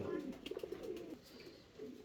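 Fancy pigeons give soft, close rolling coos in short pulsed bursts, fairly faint, with a brief quiet stretch before another coo near the end.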